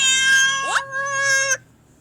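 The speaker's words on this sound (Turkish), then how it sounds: "Ana kedi." A mother cat out on a street gives a clear, close, drawn-out meow of about one and a half seconds with a rising inflection in the middle.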